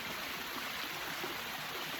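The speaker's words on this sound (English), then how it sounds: "I'm here at my favorite little spring in the forest in my neighborhood, and the water is flowing." Spring water flows steadily in a forest, a continuous close rushing and trickling wash with no breaks and no voices.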